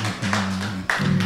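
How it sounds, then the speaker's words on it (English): A church congregation clapping after a sermon, a short burst of rhythmic hand claps with sustained organ or keyboard tones ringing underneath. "Let's clap unto the Lord."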